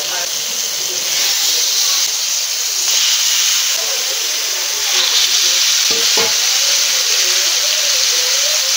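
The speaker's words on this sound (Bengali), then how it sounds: "তেল গরম হয়ে গেছে, মাছগুলো এবারে দিয়ে দেবো" Masala-marinated fish frying in a little hot oil in a wok, with a loud, continuous hissing sizzle that swells as the pieces go in, while someone speaks over it.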